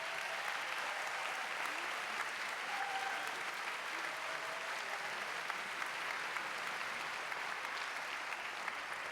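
A large audience applauds steadily and evenly in a conference session hall, the dense clapping sustained without a break for about nine seconds and heard alone.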